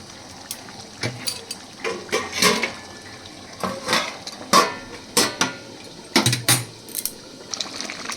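Chicken being stirred in a covered pot for a Bengali chicken kosha, with a run of clattering metal knocks and scrapes of a spoon against the pot and lid, close and irregular, with no talking.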